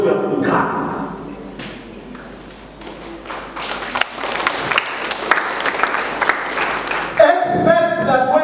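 Applause from an audience at a political youth leadership talk, a dense run of claps, fairly loud and close, mixed with talking throughout and a brief noisy burst near the end.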